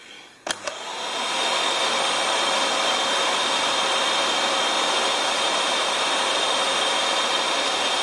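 A Dirt Devil Rebel 54 bagless multi-cyclone vacuum cleaner switches on after a couple of clicks, spins up, and holds a loud, steady whooshing whine with a high-pitched tone, close by and alone.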